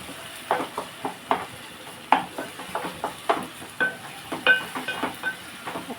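Tomatoes and onions soften in a pan for boondi curry, a soft sizzle broken by repeated scraping taps of a spoon stirring, close and fairly quiet with no talking.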